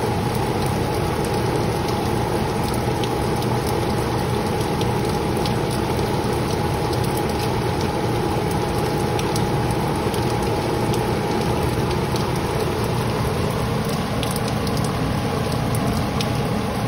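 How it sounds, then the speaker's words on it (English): Steady morning rain falls in a dense, even hiss with scattered droplet patters, continuous and moderately loud throughout, with no voices. "the sound of the"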